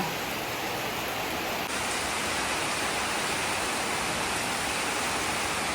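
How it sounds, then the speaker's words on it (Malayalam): Heavy rain pours down in a dense, steady roar that fills the whole scene without pause. "നല്ല മഴ"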